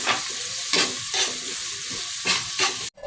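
Garlic and onion sautéing in a pan: a constant sizzle broken by several rhythmic stirring scrapes, ending in a sharp clatter of the utensil.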